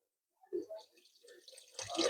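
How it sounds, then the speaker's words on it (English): Water poured into a cooking pot while preparing a classic Zimbabwean meat dish, a soft trickle building into a steadier splashing pour, close and fairly quiet, following a brief murmur of speech. "Then I'll add a little bit of water."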